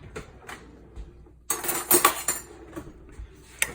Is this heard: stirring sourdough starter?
yes